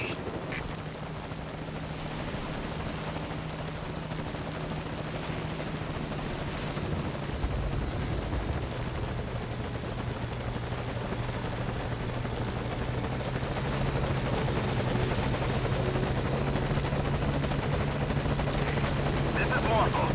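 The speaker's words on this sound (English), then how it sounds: "Ah, da ist der Heli." Helicopter from the Metal Gear Solid V: Ground Zeroes game arriving at a landing zone, a steady loud rotor drone running throughout with a low thumping tone, under intermittent game radio chatter.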